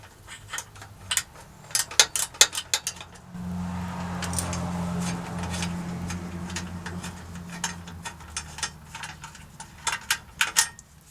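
GearWrench ratchet wrench loosening 12mm bolts on a Toyota Land Cruiser 80, sharp rapid clicking bursts of the pawl close up, then a steadier mechanical hum in the middle before more quick ratchet clicks.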